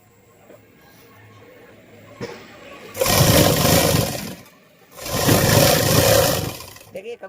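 Electric sewing machine stitching a trouser pocket, running in two steady bursts of a few seconds each, separated by a short pause, fairly loud and close.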